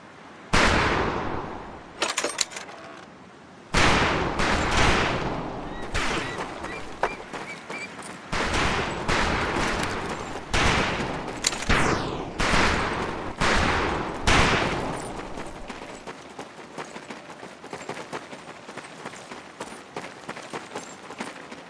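Rifle and machine gun fire in the video game Medal of Honor Pacific Assault: dense, loud bursts of gunfire in several long volleys with brief pauses between them, then a quieter tail of lingering ambience.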